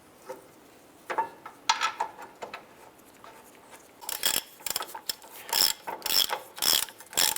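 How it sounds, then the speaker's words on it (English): A hand ratchet snugs down the rear caliper bracket bolts on a 2004-2009 Dodge Durango, with scattered clicks at first and then quicker, louder bursts of close ratcheting near the end, with no talking. "Let's go ahead and snug down these bolts for the caliper bracket."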